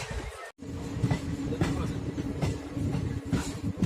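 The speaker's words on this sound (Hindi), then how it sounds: "गाइस ये हमारा अराइवल हो रहा है रेवाड़ी जंक्शन पे" Chetak Express passenger train rolling into Rewari Junction, a steady rumbling clatter of wheels and carriages heard from inside, continuous and fairly loud with faint voices in the background.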